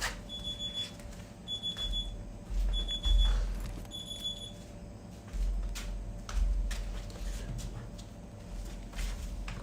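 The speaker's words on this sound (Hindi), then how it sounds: "मेरा अलार्म भी बजने लग गया, फजर का टाइम हो चुका है।" An alarm clock ringing in repeated short bursts of high electronic beeps, four groups in the first half, over low background game noise and thumps.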